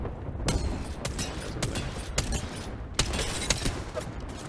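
Gunfire in the video game Apex Legends comes as a series of sharp, spaced single shots, loud and close, each cracking out over a steady background of game ambience.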